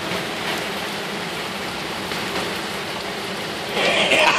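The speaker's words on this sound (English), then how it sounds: "It's raining like a son of a bitch." Heavy rain during a summer storm pours steadily in a dense, loud wash of drops on surfaces, swelling slightly heavier near the end.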